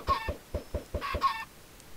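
Chickens in the video game SoulCraft cluck in quick rhythmic bursts, about six clucks in two seconds, close and clear with no talking.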